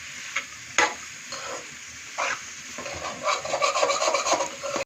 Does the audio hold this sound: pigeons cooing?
no